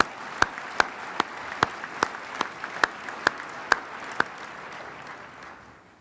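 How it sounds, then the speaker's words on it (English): At Riverside's 2018 Mayor's State of the City Address, an audience claps for the gold sponsors: around ten distinct, spaced-out claps that fade over several seconds, heard without any talk. "Your applause, please, for all of the gold sponsors."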